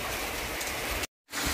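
Steady rain falls across a backyard garden with a pond, a dense, even hiss that holds loud and close before cutting out briefly and resuming.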